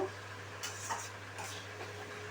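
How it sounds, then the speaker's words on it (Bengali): Chicken pieces being stir-fried with spices in a pan for a curry: soft scraping stirs and brief spoon clinks over a low, faint sizzle, with a steady hum beneath. "সমস্ত মশলার সাথে মাংসটা আমি ভালোভাবে কষিয়ে নেব।"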